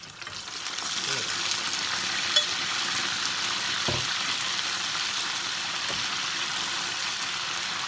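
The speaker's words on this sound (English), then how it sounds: "I've fried these all once, and the batter's still a little bit soft, so we're going to put the whole lot back in again and finish them off" Battered goose pieces deep-frying in hot oil for a second time to crisp the batter, a loud, steady sizzle and crackle that runs without a break, with a few soft knocks from the pieces being moved.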